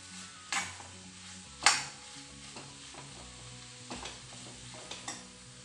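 Liver pepper masala sizzles steadily in a pan while a spoon stirs it, scraping and clinking against the metal in sharp intermittent strokes over the low frying hiss, close and without talk.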